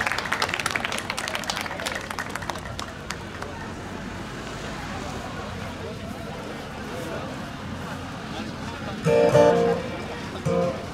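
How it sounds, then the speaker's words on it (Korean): An audience claps steadily for a singer's concert performance, and the dense applause fades somewhat over several seconds, ending in a couple of short louder bursts of sound near the end. "여러분 박수 부탁드리겠습니다"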